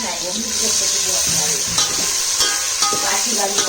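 Fresh tomatoes going into a hot pan on a wood-fired stove for Kokani chicken curry, giving a steady loud sizzle and frying hiss with light stirring scrapes throughout.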